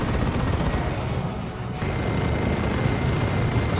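A missile launcher barrage in Warhammer 40,000: Dawn of War 2: Retribution, heard as a dense, loud, continuous roar of rapid blasts and crackling impacts that dips briefly in the middle, with no talk.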